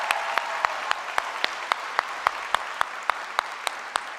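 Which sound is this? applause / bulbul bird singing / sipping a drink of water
applause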